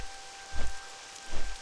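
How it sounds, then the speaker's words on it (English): Rain falling in Elwynn Forest in World of Warcraft, a steady hiss of drops on the ground with two soft low rumbles swelling through it. "but it's raining"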